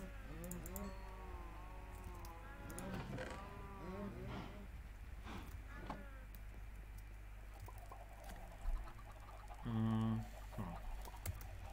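Cows mooing in Minecraft, several drawn-out lowing calls overlapping early on, followed by a short loud blocky sound, all over a steady background hum with occasional light clicks.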